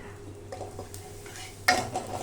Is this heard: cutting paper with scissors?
no